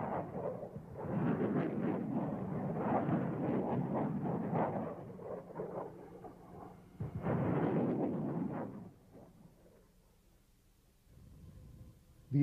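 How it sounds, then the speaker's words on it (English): MLRS rocket submunitions burst across a wide desert test area, a rumbling cluster of distant explosions rolling on for several seconds, then a second heavy volley before fading to quiet. "As we see in this test footage, the small submunitions blanket a wide area."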